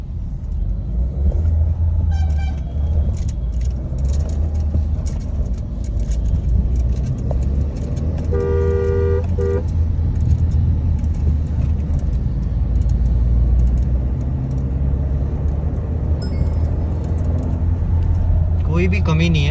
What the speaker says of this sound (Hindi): पिकअप आपको दिखाता हूँ मैं गाड़ी का।